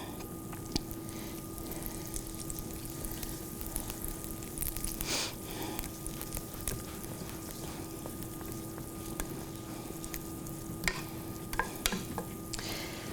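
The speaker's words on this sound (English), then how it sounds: "So we're going to do about 2 tablespoons of butter. Let that get nice and melted." Butter melts in a hot pan with a soft, steady low sizzle, faint and continuous, broken by occasional small clicks and pops.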